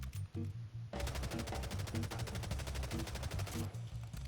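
Rapid automatic gunfire from a video game gun with heavy recoil, a long continuous burst of evenly spaced shots after a few short opening taps, fairly loud and close.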